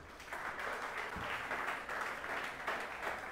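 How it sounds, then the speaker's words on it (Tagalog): A church congregation at a Sunday service claps together in a steady, dense wash of applause that holds evenly for a few seconds, moderately distant and with no talking over it. "Palakpakan po natin si Jesus."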